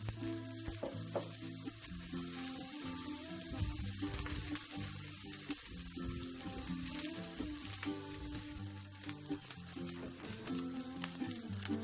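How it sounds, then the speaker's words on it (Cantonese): Dried shrimp sizzle and crackle steadily in a hot wok with shallots, with occasional scraping and stirring sounds throughout. "爆一爆呢個蝦乾或者蝦米。"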